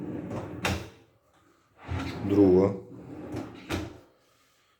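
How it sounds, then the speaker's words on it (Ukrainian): The pull-out drawers of a built-in hallway wardrobe slide open and shut in a few short, distinct thuds, close by and under a person speaking. "дві видвіжні шухляди"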